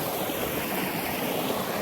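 A creek in Kakadu National Park flows steadily nearby with a broad, even rushing wash and no talking.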